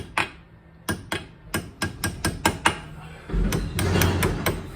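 Ball peen hammer tapping a pin into Brembo brake pads, about eight sharp metallic strikes in an uneven rhythm, close and clear, followed by a rougher scraping clatter.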